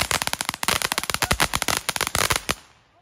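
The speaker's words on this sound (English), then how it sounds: "These are all legal fireworks." Rapid bursts of legal consumer fireworks crackle and pop loudly and close by in a dense, irregular barrage for about two and a half seconds, then cut off into quiet.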